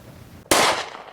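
A single sharp, loud gunshot from a small concealable small-frame pistol, heavier in recoil than a .22, cracks out alone and close after a quiet moment, then decays quickly.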